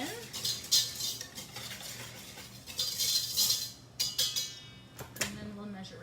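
Yeast is mixed into naan dough ingredients in a bowl, with a utensil scraping and rattling against the bowl in close, continuous stirring strokes while a voice talks.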